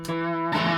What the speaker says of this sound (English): Rat pedal just gives you tons of sustain and kind of makes all guitars sound the same